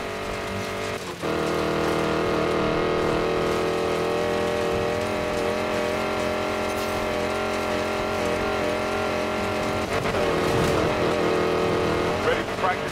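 Hypercar racing engine in Need for Speed Payback, a loud sustained high revving whine with shifting pitch and a brief dip near the start and another surge late, with voices talking over it.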